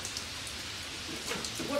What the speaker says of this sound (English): apparently it is raining here